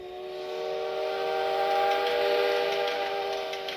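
A steady, sustained steam whistle sound effect from an N scale model train, with a harmonic tone holding at an even pitch for several seconds and a faint mechanical hum beneath it.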